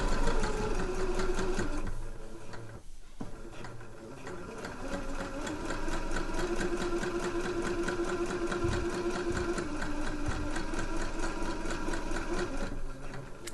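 A sewing machine with its free arm removed runs in long continuous stitching passes joining a skirt to a bodice at a dress waistband, a close mechanical whir with one brief pause near the start.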